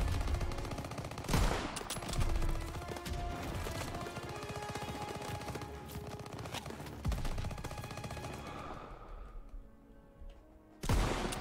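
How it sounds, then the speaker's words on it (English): Gunfire from a Pak 38 anti-tank gun firing on a tank in Call of Duty: WWII during Operation Cobra: loud sharp blasts around one and eleven seconds, with dense rattling battle noise between them that fades toward the end. "That Pack 38 still has a gun. It's firing on our tank."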